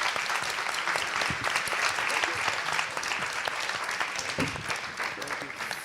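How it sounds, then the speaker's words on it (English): Sustained, dense applause from a conference audience for panelists at a forum on sustainable AI at the Hôtel de Roquelaure, steady and fairly loud throughout. "Let's give a final round of applause to our panelists."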